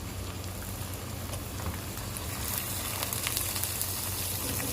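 Chicken goes into a hot pot with roasted garlic and sizzles in a steady, dense hiss that swells slightly partway through, with no talking.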